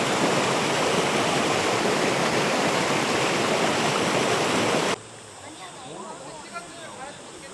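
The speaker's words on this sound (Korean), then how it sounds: "물소리 들리시죠?" Steady rushing of a mountain stream in Deokpung Valley, South Korea, loud and close for several seconds, then suddenly softer and more distant with gentle trickling and splashes.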